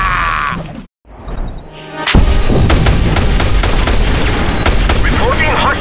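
Chinese fireworks and gunfire explosions in the Just Cause 2 video game, a dense barrage of loud bangs and booms that bursts in after a brief silence and rolls on continuously.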